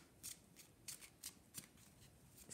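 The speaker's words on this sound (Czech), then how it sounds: "Tak, já si vezmu ještě jeden tarot a doložíme si." Tarot cards handled and drawn during a reading, a series of about six soft, crisp papery slides and flicks at a steady irregular rhythm, close and quiet with no talking.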